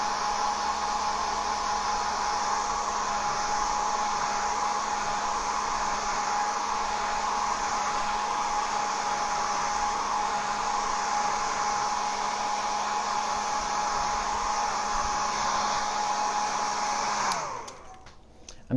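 A hair dryer blows steadily over watercolor paint on paper, a loud, constant whooshing drone that runs for most of the stretch before being switched off.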